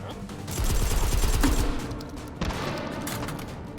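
Suppressed shotgun fire in the VR shooter Hot Dogs, Horseshoes & Hand Grenades: dense, loud bursts of muffled blasts in quick succession, with a second volley near the end.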